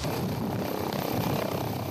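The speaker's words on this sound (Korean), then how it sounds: "의료진을 태운 헬기가 이륙한 시각은 이송 요청 2분 만인 11시 9분." A medical helicopter taking off, its engine and rotor droning steadily at moderate distance, a continuous whirring roar with no voices.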